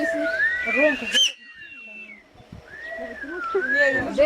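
A person whistles to imitate a rival male peacock, giving long sliding, wavering whistles that rise and fall, close and fairly loud, alongside people talking.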